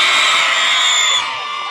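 A crowd of children at a live event in Võru shouts loudly together in one sustained roar that tapers off near the end.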